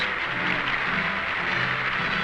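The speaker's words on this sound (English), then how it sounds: "Stalin and company applaud the Latvian communist delegates." Dense, steady applause from Stalin and his company for a delegation of Latvian communists at the Moscow Supreme Soviet, an even wash of many hands at constant level throughout.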